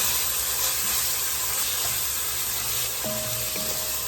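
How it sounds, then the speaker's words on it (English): Garlic cloves cooking in a hot pan, giving a continuous, fairly loud hissing sizzle heard up close, with a faint clink near the end and no voices. "Let it cook for a minute or two. You don't want to burn the garlic."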